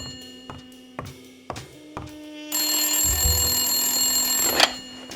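Telephone in the noir detective game Blacksad: Under the Skin, ringing in several sharp separate bursts, then a sustained loud bell ring lasting about two seconds that ends in a clack.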